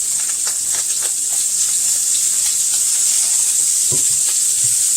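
Garlic shrimp frying in a pan give off a loud, steady, close sizzle, with a few soft clicks and scrapes of stirring scattered through it.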